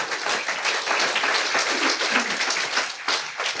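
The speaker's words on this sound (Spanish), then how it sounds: "Denle un fuerte aplauso al Señor." Dense, steady applause from a church congregation after a call during a sermon, a loud crowd of many hands clapping continuously for a few seconds without any talk.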